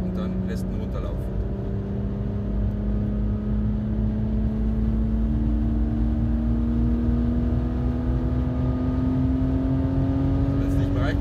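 A car in fourth gear accelerates at full throttle on the Nordschleife, its engine droning steadily and rising slowly in pitch, heard from inside the cabin while a driving coach speaks.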